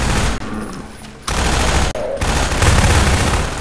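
Bursts of rapid gunfire in Half-Life 2, loud and close, with short gaps between volleys.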